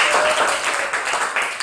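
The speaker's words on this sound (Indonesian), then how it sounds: "Oke, tepuk tangan buat kita semua." A brief burst of clapping from a group, fairly close and loud, fading slightly toward the end.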